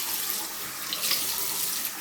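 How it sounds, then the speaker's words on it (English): At a bathroom sink, water splashes continuously while mascara is washed off, a close, steady hiss of running and splashing water with no speech. "And you just kind of splash water on it."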